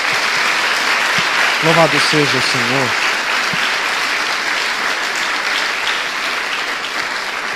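A church congregation claps together in steady, dense applause that fills the room for several seconds and slowly fades, while a single voice briefly speaks over it near the start.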